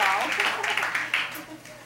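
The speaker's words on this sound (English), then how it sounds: "All right, big applause for them" Short burst of applause for hackathon winners at a rice research institute, a handful of people clapping in quick uneven claps that fade within two seconds.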